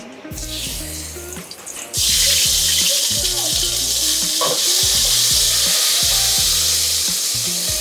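Ginger garlic paste dropped into hot oil with whole spices for egg biryani, a loud, close, steady sizzle that rises suddenly about two seconds in after quieter frying. Low rhythmic hum beneath.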